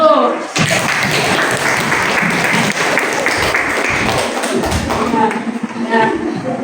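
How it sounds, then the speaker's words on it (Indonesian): Schoolchildren clapping together in an Indonesian classroom after a correct answer in a lesson on magnets: a loud burst of many small hands clapping, with young voices mixed in at the start and end. "Tepuk tangan dulu."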